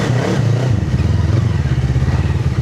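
An FKM Falcon 400 naked motorcycle pulls away in first gear with a close, steady, thrumming engine note that builds without pause.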